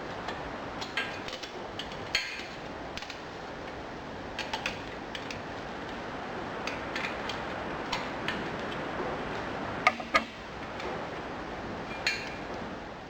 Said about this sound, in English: We'll just tighten them up with a spanner.